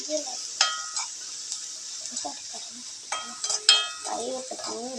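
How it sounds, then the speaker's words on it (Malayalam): Crushed black pepper frying in oil with shallots, small onions and garlic in a pan, a soft steady sizzle with occasional stirring clinks, close and moderate, with faint voices in the background. "ഇനി അതിലേക്ക് നമ്മൾ 1 ടീസ്പൂൺ മിളക് ചതച്ചത്, ഇനി അതൊന്ന് മൂക്കട്ടെ."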